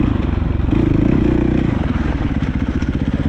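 A dirt bike roars loud and close through a hare scramble race on a muddy woods course, its engine throbbing and revving continuously as the rider pushes hard.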